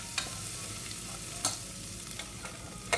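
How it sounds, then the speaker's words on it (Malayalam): Crushed ginger, garlic and green chilies frying in hot coconut oil, a steady soft sizzle broken by a few light stirring clicks of a spoon, fairly quiet and close. "വെളിച്ചെണ്ണ ചൂടായിട്ടാകുമ്പോൾ അതിലേക്ക് ഇഞ്ചി വെളുത്തുള്ളിയും ക്രഷ് ചെയ്തിട്ട് കൊടുക്കുകയാണ്"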